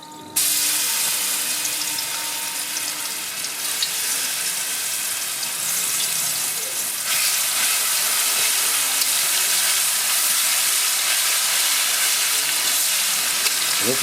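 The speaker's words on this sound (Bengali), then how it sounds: "আমি এটা ফোড়নে দিয়ে দেবো আমি দিয়ে দেবো রসুন বাটা রসুন" Garlic paste and whole spices (cloves, cardamom, cinnamon) frying in hot white oil, a loud continuous sizzle that flares sharply at the start and swells again midway.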